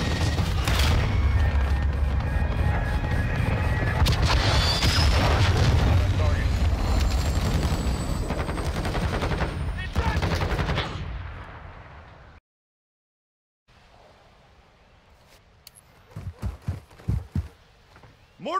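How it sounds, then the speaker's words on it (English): Mortar strike explosions in the video game Modern Warfare 2 arrive as a loud, sustained barrage of booms and rumbling blasts, then cut out to silence before a few sharp distant reports and some speech near the end. "Mortar strike on the way."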